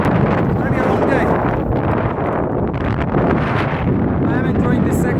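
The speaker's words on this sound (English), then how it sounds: "The headwind is strong." Strong headwind on a bike ride along a village side road, buffeting the microphone as loud, continuous roaring rumble with gusty swells throughout.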